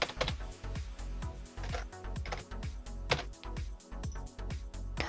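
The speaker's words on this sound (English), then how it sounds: "I love how this keyboard sounds through the filter." Computer keyboard typing run through an audio filter, a dense steady stream of clicky keystrokes with heavy low thumps, close and continuous with no talk.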